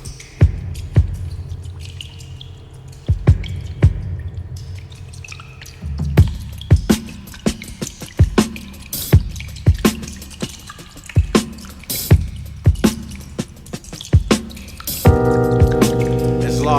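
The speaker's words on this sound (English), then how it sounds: "Let me pour you some of this apple juice." Apple juice being poured makes a string of wet drips and splashes that quicken and fill out over the clip. A sustained tonal sound enters near the end.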